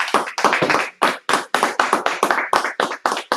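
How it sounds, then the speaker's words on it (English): A class closes with hands clapping in a quick, sharp, near rhythm, a steady run of loud individual claps and short bursts with no talk over them. "Clap it up."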